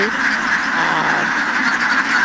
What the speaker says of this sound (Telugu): ఇవి బాతులు చేలలో మేపడం